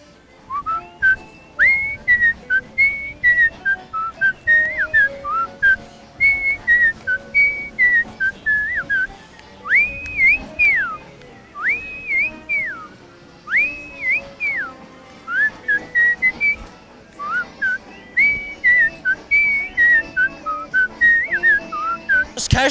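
A man whistles a TV theme tune, a clear, close melody in short rhythmic phrases with brief pauses, carrying on for over twenty seconds with little else behind it.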